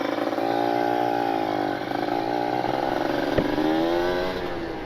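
A Kawasaki Ninja RR motorcycle accelerates while being ridden. Its loud, close engine drones with a rising, rasping pitch that climbs through the gears over several seconds.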